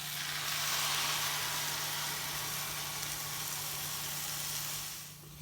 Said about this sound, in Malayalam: ഒരു 3/4 കപ്പ് വെള്ളം ഒഴിച്ചു കൊടുക്കുന്നുണ്ട്.